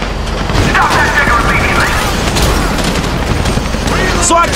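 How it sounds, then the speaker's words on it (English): Gunfire in a Grand Theft Auto 5 shootout during a bank heist in Paleto Bay, with a loud, continuous stream of shots and booms layered over other game sounds for the whole stretch. "You hear that gunfire?"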